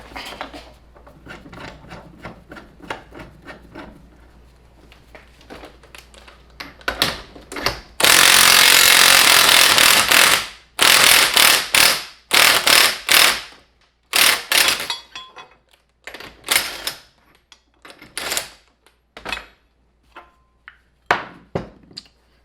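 In a garage, a worn bushing is forced out of a C6 Corvette rear control arm. Faint clicks and scrapes build into a long harsh grinding burst, followed by a series of loud, choppy tool bursts that end in scattered knocks.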